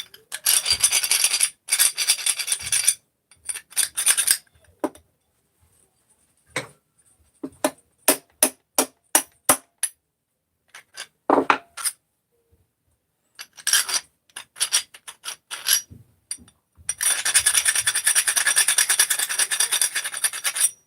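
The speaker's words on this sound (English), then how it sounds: "Clean them, deburr them." Pieces of aluminum are deburred by hand, giving bursts of close, loud rasping and scraping strokes, some in quick rhythmic series, separated by quiet gaps.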